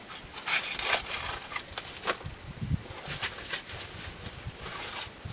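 Metal scraper rasping at the door of a wood-fired kiln, a series of short rough scrapes in uneven rhythm, close and moderately quiet, with no talking.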